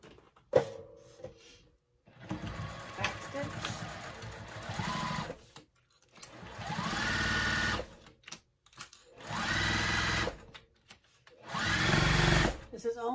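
A sewing machine stitches a 1/4 inch seam along the top of a tote bag in several bursts of steady motor whir, separated by short pauses, close and moderately loud.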